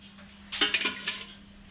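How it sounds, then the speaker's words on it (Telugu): A spoon clinks and scrapes against a metal kadai as oil is spooned in for masala brinjal, a brief cluster of bright metallic taps lasting under a second before quiet returns. "ఆయిల్ పోసుకుందామండి. ఒక 5 స్పూన్లు పోసుకుందాము."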